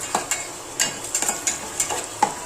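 Raw mango pickle stirred into oil, a spoon or ladle scraping and clinking in a quick series of short, sharp strokes at close range, with no voices.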